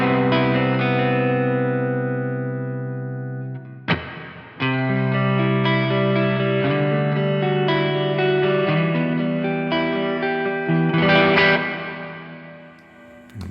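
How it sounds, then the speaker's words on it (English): Clean electric guitar through a Laney Ironheart amp plugin with a large, spacious reverb, sustained strummed chords ringing out into long washy tails, with a pause near four seconds before further chords and picked notes bloom again. "how about let's add some reverb"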